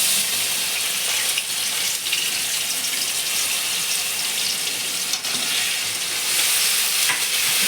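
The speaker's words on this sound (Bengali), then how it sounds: "পেঁয়াজটা লাল লাল করে ভেজে নিব" Onion paste fries in a pan for a Bengali doi katla yogurt fish curry, giving a steady, close, dense sizzle with faint stirring ticks and a few brief dips, and no talking.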